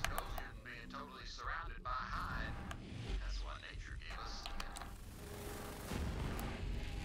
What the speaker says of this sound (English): God damn, this SMG is fucking potent as fuck.